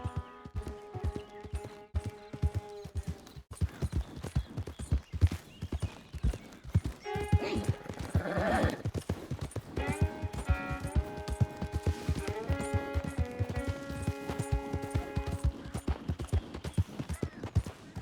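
Horse hooves clip-clopping steadily in the video game Red Dead Redemption 2, a continuous rhythmic trot with musical tones and faint snorting layered over it.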